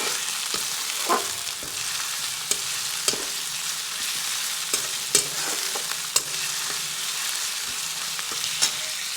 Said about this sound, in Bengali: তো এরপরে পেঁয়াজটিও কিছুক্ষণ ভেজে নেব